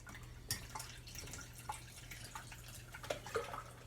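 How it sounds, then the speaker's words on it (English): Lemon ginger juice with greens is strained, with sparse drips and small liquid splashes falling at irregular intervals, faint and close, over quiet background hum. "So I strain this to keep a smooth juice"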